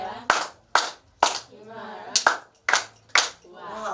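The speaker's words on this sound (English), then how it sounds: "Clap your hand for him" A classroom audience claps for a student at a practical electronics workshop, seven sharp loud claps in a fairly regular rhythm, each followed by a short ring, with a voice talking between them.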